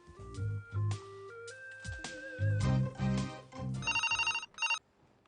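Telephone ringing in a household, several bursts of a bright electronic ring tone over background music, moderately loud and close.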